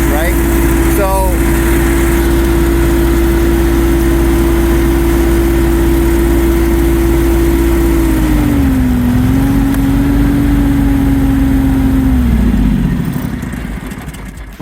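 A John Deere X730 lawn tractor with a 60-inch HD broom attachment runs at a steady, loud engine drone, holding one pitch before dipping slightly and then easing down near the end.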